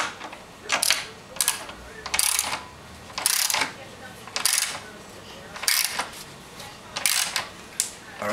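Parts being screwed together while a table is built, with repeated ratcheting, clicking bursts of a hand tool at a steady rhythm, close by and fairly loud.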